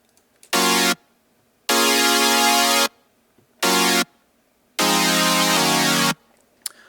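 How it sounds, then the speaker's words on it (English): Supersaw synth chord built in Harmor with chorus, reverb and compression, four bright, buzzy sustained chord blasts separated by silence, loud and full, alone with no talk. "So it's just your average supersaw."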